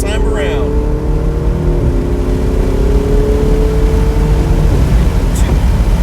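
A Ferrari 488 GTB engine accelerates on the Autobahn Country Club race track, heard from inside the cabin as a loud, steady drone with rising pitch. A voice talks over it.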